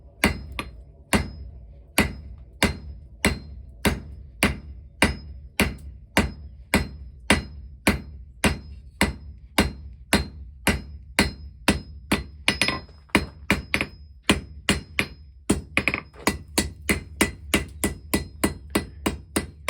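A blacksmith's hammer strikes hot steel in steady, evenly spaced ringing blows, close and loud, with the pace quickening toward the end.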